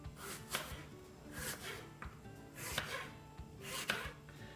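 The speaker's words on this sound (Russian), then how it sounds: "И нарезаем вот такими вот дольками." Four crisp, evenly spaced knife strokes slice through a firm apple on a cutting board, each a short crunchy chop about a second apart.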